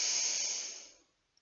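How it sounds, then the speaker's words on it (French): A long, airy hiss of breath drawn in through the nose during a relaxation session, close to the microphone, steady and then fading out over about a second. "J'inspire par le nez,"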